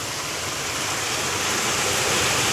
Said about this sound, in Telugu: ఇది చూడండి వర్షం ఎట్లా వస్తుందో